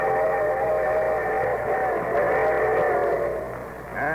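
A train whistle sounds on an old radio show, a loud, sustained multi-tone blast that holds steady for several seconds and swells again briefly at the end.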